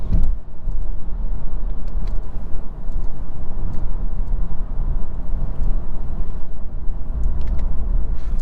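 A 2023 BMW 330i in rear-wheel drive form taking a corner, heard as a steady low engine and road rumble with constant cabin noise and no talking.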